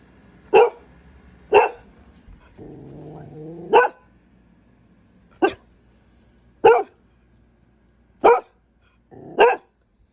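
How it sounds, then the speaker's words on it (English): A dog barks in sharp, separate bursts, seven in all with pauses between, plus a brief low growl partway through; no talking. "He's barking because I'm talking to myself."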